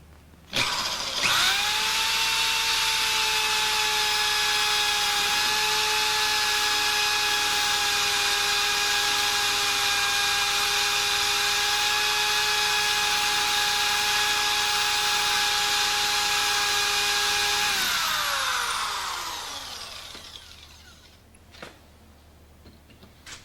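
A power drill drilling into a lock whines at a steady high pitch for about fifteen seconds, close and loud, then winds down and stops.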